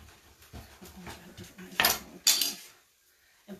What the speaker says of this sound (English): just cut it up into cubes.